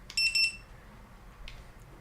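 Two short, high-pitched electronic beeps from a SafeShock dog training collar in quick succession, close and clear, followed by a faint click.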